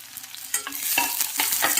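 Onion sautés in a pan for a tomato chutney, a close, bright sizzle with quick stirring scrapes that grows louder over the short stretch.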